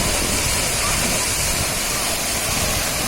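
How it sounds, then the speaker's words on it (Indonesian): Heavy water crashing down at Gitgit waterfall in Bali, a loud, steady, broadband roar of rushing falling water that fills the whole clip without pause, close and continuous. "air-air yang jatuh dari air terjun ini membasahi muka dan badan aku guys"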